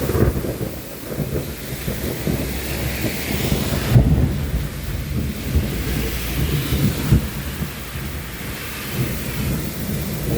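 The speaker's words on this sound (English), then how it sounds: "Nice storm, solid one coming through." A July thunderstorm in Bath, Maine brings a heavy rain downpour, with dense rain hiss roaring steadily throughout, low thunder rumbling beneath it, and a sharp crack of thunder at about four seconds.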